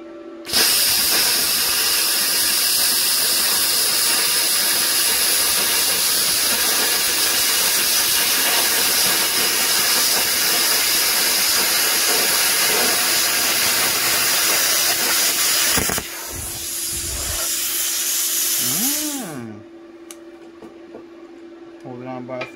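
A Tooliom 50 amp plasma cutter cuts metal with a loud, steady roaring hiss that runs for about fifteen seconds, then changes and fades, followed by a quieter tail with a brief tone and possible voices.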